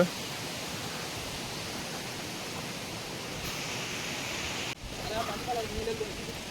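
A forest waterfall roars as a steady, dense broadband rush throughout, loud and unbroken, with a brief shift in tone near the end as the listening position changes.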